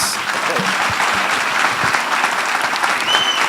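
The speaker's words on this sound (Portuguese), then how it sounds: "Palmas para o Ricardo." Audience at a business lecture applauding steadily after the talk, dense continuous clapping from a sizeable crowd, loud and even for the whole stretch, with a few faint voices underneath.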